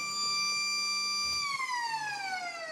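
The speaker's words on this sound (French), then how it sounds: "On a entendu la sirène." A steady electronic siren wail at a harness racing start (Vincennes, 2017) signals a false start, holding one pitch, then sliding downward as it continues, loud and alone.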